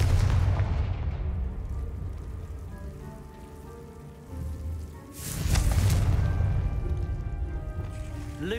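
Confringo fire spells blast in Hogwarts Legacy: a loud explosive burst at the start fades into crackling rumble, then a second booming blast hits midway and rolls on with a sizzling tail.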